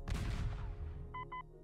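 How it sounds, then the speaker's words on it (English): A blast from a Battleship video game, a broad burst of noise that decays over about a second, followed by two short electronic tones. "that's where the explosion landed"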